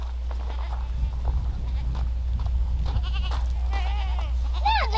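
Several goats, including bucks, bleat in wavering calls on a farm, growing louder toward the end, over a steady low hum and rustling movement.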